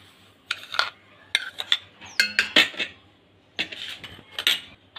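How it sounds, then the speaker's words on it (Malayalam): Semolina is spooned into a bowl for bajji batter, with several sharp metallic clinks and scrapes of the utensil against the bowl coming in irregular bursts, close by with no talk. "ഞാനിപ്പോൾ ഇവിടെ റവ ഇട്ട് കൊടുക്കുവാണ്"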